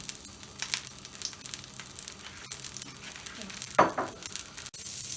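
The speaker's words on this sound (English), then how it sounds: "I'm gonna transfer it straight into the pan and fry it for about 5 minutes till it's browned and caramelized." Courgette sizzling and frying in a cast iron pan, a steady hiss with faint clinks and stirring, one sharp clatter near the middle, no talk.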